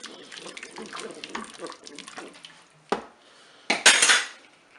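Cornstarch is stirred into the Cookeo pot for a Flemish carbonade sauce: a spoon scrapes and clinks against the metal bowl in quick irregular strokes, close up, ending in a few louder clanks.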